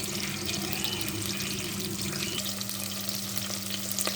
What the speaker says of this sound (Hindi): देखिए सौते होना स्टार्ट हो गया।